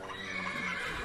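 A white fairy horse in Minecraft neighs with a clean, close, steady whinny that lasts about a second, and no voices accompany it.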